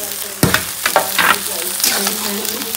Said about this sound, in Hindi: ये थोड़ा फ्राई हो जाएगा, कितना टेस्टी दिख रहा है।